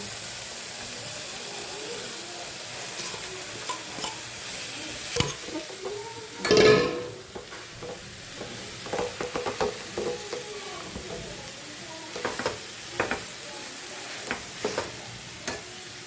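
Mashed potato is stirred into a masala in a pan, with a soft continuous sizzle and irregular scraping strokes of a spoon, plus one louder rubbing burst midway.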